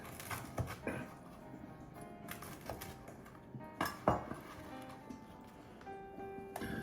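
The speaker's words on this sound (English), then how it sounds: "The bread, I'm going to cut into chunks just for blendability." A knife taps and thunks against a board in irregular chops, cutting bread into chunks, with light clinks of dishes and utensils nearby; quiet, close, no talking.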